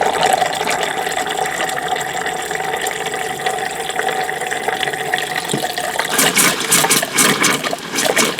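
Water running from a tap in an RV shower during winterizing, a steady hissing flow that grows louder and more splashy toward the end, heard close with no voices.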